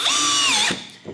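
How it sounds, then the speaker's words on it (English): A cordless hammer drill drives a short screw in one steady high whine that slows near the end, then a quick click as it stops. "our drill has no problem driving that screw on the number 1 setting"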